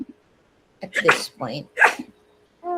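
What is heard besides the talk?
sneeze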